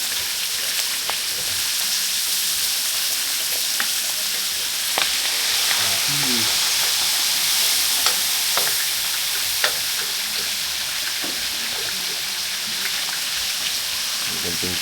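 Garlic and onion sauté in a pan for a Filipino vegetable menudo, giving a steady, close sizzle with occasional scrapes and clinks of stirring throughout, and no talk.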